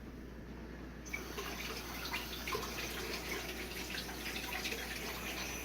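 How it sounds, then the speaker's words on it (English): Cold water from a tap starts abruptly and pours steadily into a bowl, a continuous splashing hiss with no voices. "then you want to put cold water in it."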